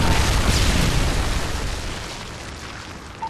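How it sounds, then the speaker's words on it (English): A Predator missile strike in Modern Warfare 3 multiplayer gameplay lands as a heavy, booming explosion that rumbles and slowly fades away over a few seconds. "Predator missile inbound."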